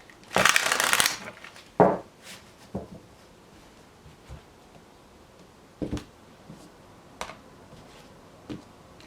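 A close burst of riffling tarot cards, followed by several sparse taps and soft card slaps spaced apart in a quiet room.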